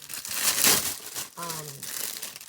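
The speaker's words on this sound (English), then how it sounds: "Sorry for the crinkling." Craft-haul packaging crinkles in a loud, brief crackling burst near the start, then fades as a voice speaks briefly over softer rustling.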